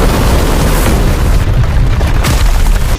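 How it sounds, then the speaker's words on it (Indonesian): Two cultivators self-destruct in an animated fantasy battle, setting off a huge, loud explosion effect that roars as a sustained deep boom with crackling bursts for the whole span. "Ledakan dua kultivator Ascendant ini menciptakan bencana kiamat."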